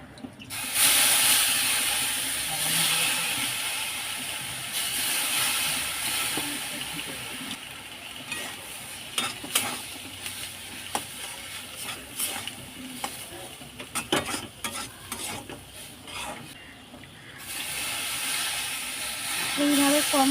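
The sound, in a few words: semolina upma sizzling and stirred as water is added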